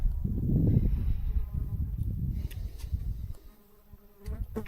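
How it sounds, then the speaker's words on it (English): Houseflies buzz around on a farm, a close, wavering drone that swells and fades as they pass, with small scattered knocks and rustles underneath. "they're just super annoying when they're buzzing around all the time"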